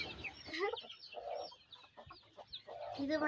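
A country hen with newly hatched day-old chicks after natural incubation, with repeated close clucks and soft chick peeps in short bursts, a brief human voice mixed in faintly.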